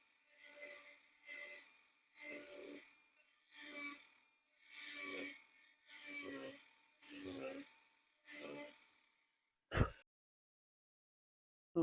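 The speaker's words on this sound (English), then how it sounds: "And a little filing." Hand filing on a Peterson tankard pipe stem, with about nine separate rasping strokes, each lasting roughly half a second and coming at a steady rhythm, close and fairly loud, followed by a single sharp tap near the end.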